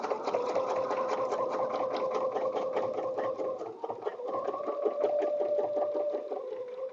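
Domestic sewing machine stitching around the edge of a quilted butterfly bed runner, running steadily with a rapid needle rhythm and a sustained motor whine, one brief pause and change in pitch near the middle.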